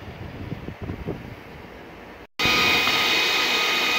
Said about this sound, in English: So you guys could see I got the air compressor hooked up correctly.